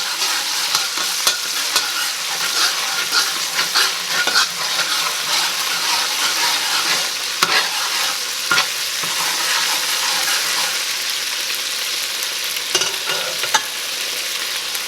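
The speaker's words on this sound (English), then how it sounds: "Alright, so now these are starting to get hot. We're just going to mix this around." Pieces of chicken for General Tso chicken fry in a hot pan while being stirred, a loud continuous sizzle punctuated by frequent utensil scrapes and taps, close-up with no talking.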